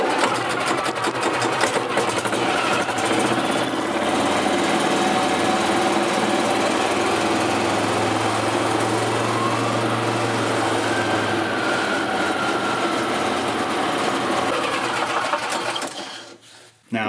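A 2008 Yamaha Drive gas golf cart engine runs steadily at close range after its winter service, holding a continuous buzzing drone with a brief rise in pitch midway before cutting off near the end.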